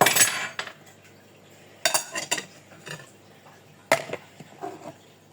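Sharp metallic clinks and taps of a fork against a plate, several separate bursts with quiet gaps between them, close by.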